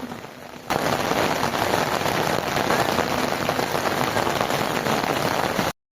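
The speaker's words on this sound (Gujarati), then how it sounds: "છાંટાઈ મોટા આવે ને એટલે છત્રીમાં અવાજ આવે છે" Heavy rain drumming hard on an umbrella overhead, a dense, loud, continuous patter that starts abruptly after a brief quieter moment.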